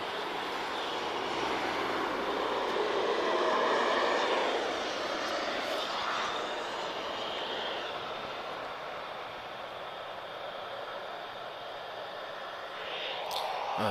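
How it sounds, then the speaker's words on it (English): At Lisbon Airport an Embraer 190 touches down and runs full reverse thrust, a fairly distant, moderate jet roar that swells, eases and then surges again near the end. "This is a long range Embraer 190. And using full reverse thrust as well."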